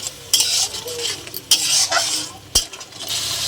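Chicken masala base of tomato, green chilli paste and yogurt frying in a pan, a steady bright sizzle broken by sharp metal spoon scrapes and clacks against the pot, close and loud.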